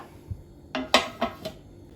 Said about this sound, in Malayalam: ഇതേപോലത്തെ ഒരു ടിന്നോ അല്ലെങ്കിൽ ഏതെങ്കിലും ഒരു പാനോ അടിയിൽ വെക്കണം എന്നിട്ട് അതിൻ്റെ മേലെ ഇത് വെച്ച് കൊടുക്കുക